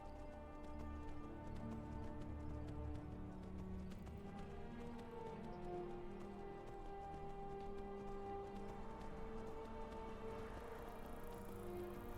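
Horse hooves clip-clop in a steady, continuous trot through the open world of the Skyrim video game, moderately close and unbroken, with no one speaking over them.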